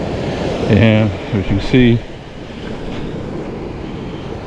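Steady broadband wash of surf and wind at a beach fills the clip, with someone speaking briefly near the start over the continuous noise.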